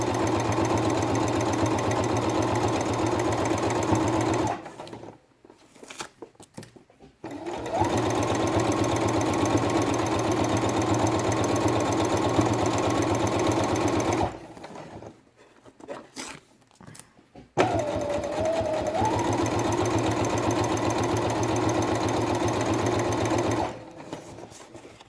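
A sewing machine runs a straight stitch around the edge of a felt quiet-book page in long, steady, loud bursts, separated by brief pauses with handling clicks.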